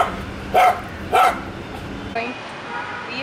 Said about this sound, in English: you were barking so madly